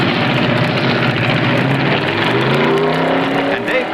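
Loud, close roar of 1960s F Gasser drag racing cars at full throttle, a dense continuous engine howl with rising pitch as they accelerate down the strip, with a voice talking over it.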